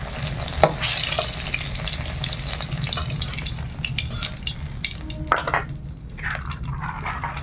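Homemade lentil dumplings (bori) frying in oil in a pan in a village kitchen give a steady, close sizzle, with occasional stirring clatter and sharp spatters.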